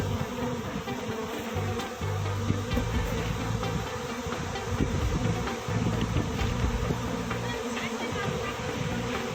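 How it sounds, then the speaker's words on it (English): A dense, steady drone of honeybees swarming at a bee farm, loud and continuous throughout with no pauses. "A normal day at the honeybee farms."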